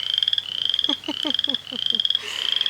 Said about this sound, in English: Listen to that frog, for Pete's sake.